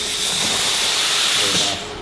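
A coffee machine steam wand gives a loud, continuous close hiss that holds steady for nearly two seconds, then eases slightly at the end.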